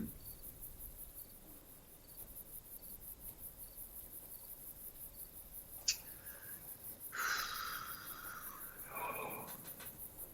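Crickets chirp in a fast, steady, continuous trill on a quiet golf course at Prairie Dunes, with a few brief rustles and soft noises breaking in near the end.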